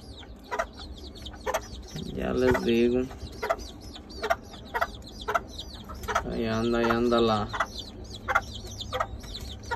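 Chickens cluck close by, a sick young chick among them walking crookedly, with repeated short clucks and two longer calls, while someone talks over them.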